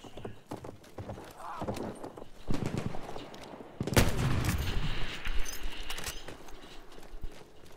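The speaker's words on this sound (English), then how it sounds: "There's an enemy horse rider." Rhythmic hoofbeats of a galloping horse pound closer amid scattered gunfire in Battlefield 1 multiplayer, with a loud impact partway through and a voice shouting over the action.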